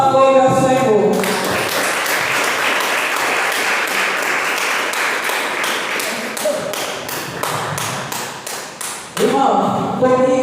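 A church congregation at a healing and deliverance service claps hands in praise, a loud sustained round of rhythmic clapping filling most of the clip, with brief speech or singing audible at the start and end.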